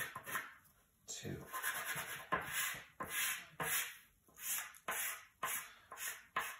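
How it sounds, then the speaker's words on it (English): Chalk pastel rubbed along the edge of a sheet of paper during a daffodil still-life drawing, giving a series of soft, dry scratchy strokes in a steady rhythm, each stroke a short raspy swipe, close and fairly quiet. "I can even use the pastel on this whole edge"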